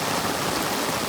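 Rainwater rushes steadily down a drain, a dense continuous wash of flowing water close by with no pauses.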